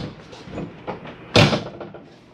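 Inside an RV, a plastic panel or cover is snapped back into place with one sharp, close click-thud after a stretch of quiet handling noise.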